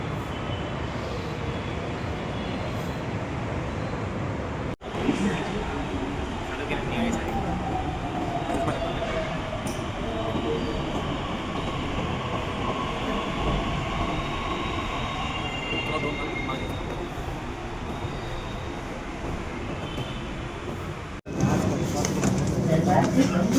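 A metro train rumbles steadily along the track in Pune with a long rushing roar and faint wheel squeal, close by, with brief breaks in the noise.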